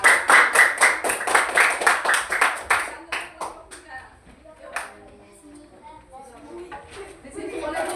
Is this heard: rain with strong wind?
no